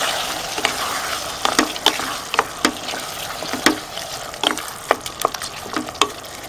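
Chicken keema sizzles and bubbles in a pan, a steady frying hiss broken by sharp scraping clicks of stirring, close and loud, with no voices.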